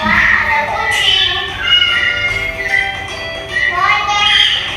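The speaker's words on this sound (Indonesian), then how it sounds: "Contohnya ada kucing" A cat meows repeatedly in high, drawn-out cries alongside a voice explaining mammals in an Indonesian lesson on animal reproduction, the mews rising over steady background sound.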